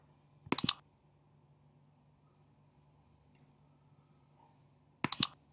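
Computer mouse clicks come in two quick bursts of a few sharp taps each, several seconds apart, with a single faint tick between them in near silence.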